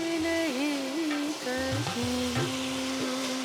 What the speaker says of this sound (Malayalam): ഇതിലേക്ക് നമുക്ക് ശർക്കരപ്പാനി ആഡ് ചെയ്ത് കൊടുക്കാം.